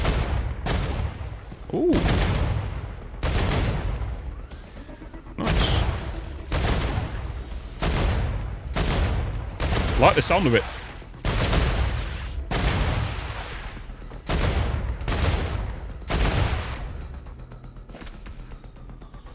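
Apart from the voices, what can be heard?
light machine gun firing in Star Rupture video game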